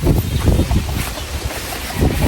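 Strong wind gusts buffet the microphone outdoors among trees, a loud continuous roar with low rumbling bursts and no speech.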